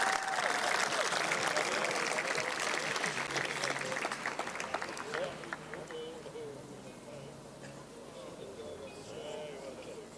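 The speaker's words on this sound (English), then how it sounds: "A round of applause for these gentlemen," A crowd at the Sharks high schools capping ceremony applauds team mentor Lwazi Mvovo. The dense clapping is loud at first, then thins after about five seconds into quieter scattered claps and crowd murmur.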